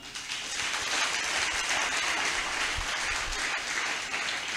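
A church congregation applauds in a sustained, dense round of clapping that fills the space evenly for several seconds, steady and fairly loud with no voices standing out.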